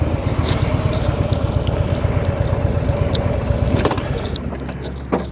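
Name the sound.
motorcycle engine pulling away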